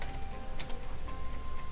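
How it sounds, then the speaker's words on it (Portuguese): Computer keyboard typing during software setup on a PC, a few light key clicks spread over under two seconds, quiet and close with a faint steady hum beneath. "Aperta Enter, teclado, depois OK."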